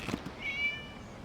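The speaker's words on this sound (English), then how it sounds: "It was just a cat." A cat in Genshin Impact gives one short, clear meow over quiet ambient game sound, with a brief soft rustle just before it.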